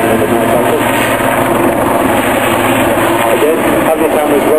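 A naval maritime anti-surface and anti-submarine helicopter flies at the Duxford air show, giving a loud, steady rotor and engine roar that fills the whole stretch without a break.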